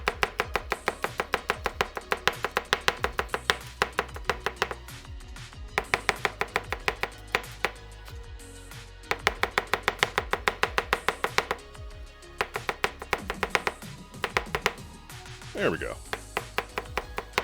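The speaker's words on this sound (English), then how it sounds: "Smash your garlic all the way with your knife." A kitchen knife smashes and chops garlic on a cutting board in rapid rhythmic bursts of sharp taps, pausing between runs, close and loud, with a short spoken phrase near the end.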